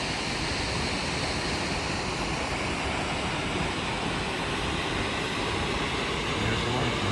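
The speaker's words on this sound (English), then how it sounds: "There's the waterfall." Roar of a Pacific Northwest waterfall, a steady broadband rush of falling water that fills the whole clip without pause, dense and fairly close, with no voices over it.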